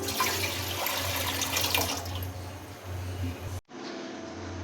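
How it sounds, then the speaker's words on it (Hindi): Water pours into a pot of rice steadily in a loud, close stream for a few seconds, then cuts off abruptly, leaving a low background hum. "इसमें पानी ऐड करें"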